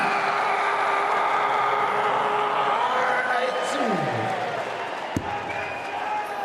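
A near-capacity crowd of about 3,000 cheers steadily after a maximum 180 throw at the 2017 Champions League of Darts semi-final, a loud sustained roar with a descending tone sweeping through and a brief sharp knock near the end.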